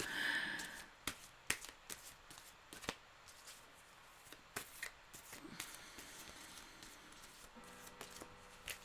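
Tarot cards are shuffled by hand, quiet and close, in a series of soft riffles and sharp taps spread unevenly through the stretch.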